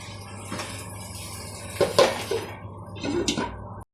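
A metal lid clanks onto a pot of banana flower and chicken liver curry with a couple of short clinks, close by, over faint kitchen background noise.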